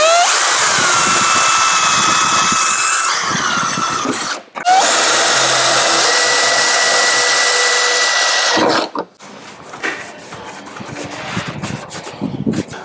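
A loud power drill whines steadily at close range in long bursts, drilling out aluminium frame fixings on a Land Rover Defender side window, stopping briefly, then gives way to softer clattering and handling noises.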